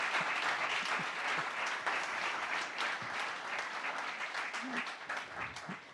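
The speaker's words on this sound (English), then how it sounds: "Du coup, on peut les applaudir" Sustained applause from an audience saluting new graduates at an alumni reunion event, steady dense clapping filling the hall for about six seconds with a few scattered voices beneath.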